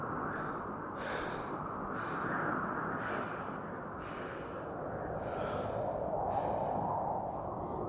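Heavy, ragged breathing of a man winded after running through woods in a horror story, a steady run of loud gasping breaths close up and alone.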